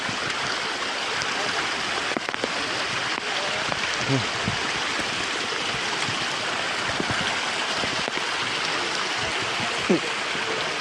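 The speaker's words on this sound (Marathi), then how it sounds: "पूर्ण पायऱ्यावर पाणीच पाणी." Water pours continuously over stone steps on the Kalsubai trek in Maharashtra, a steady close rushing wash with occasional splashes and faint voices underneath.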